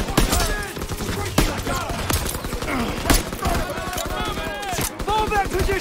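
Dense volleys of rifle and machine-gun fire crackle continuously in a Call of Duty WWII battle, with loud, overlapping shots close by and soldiers shouting over the gunfire.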